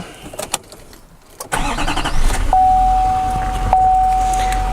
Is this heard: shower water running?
no